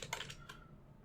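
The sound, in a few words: typing on a computer keyboard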